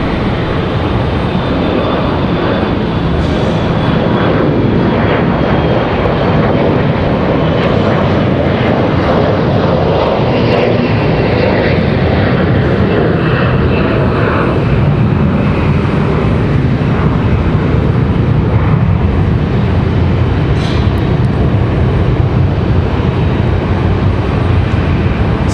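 Airliners taxi and take off at Raleigh Durham International Airport, a loud, constant jet engine roar with broad rumble throughout, building and shifting as aircraft move along the runway.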